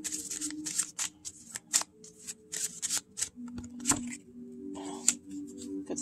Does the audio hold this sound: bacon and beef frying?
no